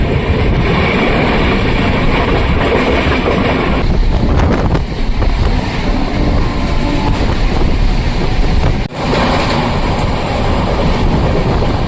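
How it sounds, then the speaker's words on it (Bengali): A passenger train pulling out of Howrah and running fills the stretch with a loud, steady rumble and rattle of the carriage, with wind buffeting. There is a brief dip near the end. "তো গাইস আমাদের ট্রেন এখন হাওড়া থেকে ছেড়ে দিয়েছে।"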